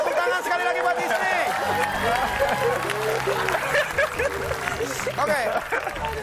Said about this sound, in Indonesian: Tepuk tangan sekali lagi buat Isni.